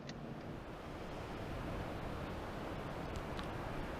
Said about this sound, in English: that's the rapids